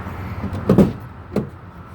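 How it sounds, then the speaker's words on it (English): Manual rear doors of a 2015 Nissan NV200 wheelchair-accessible van being opened, with two distinct clunks of latch and door movement about half a second apart, fairly close and moderately loud. "It's got the manual doors, so I open these up."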